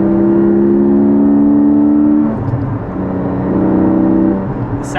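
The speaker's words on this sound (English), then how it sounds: "The sound is a lot more enticing now with the Valvetronic full exhaust than it was before." A Porsche GT4 fitted with a Valvetronic Designs full exhaust and over-axle pipes revs loudly up close, holding a steady engine note that dips, climbs again and then eases off.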